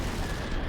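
Sustained Ingram submachine gun fire in the Max Payne video game, a dense, loud, continuous burst filling the whole short moment without pause.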